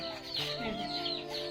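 Hens clucking in a henhouse on a farm where the chickens lay eggs, a soft, fairly quiet run of murmuring clucks and calls with a little farmyard background.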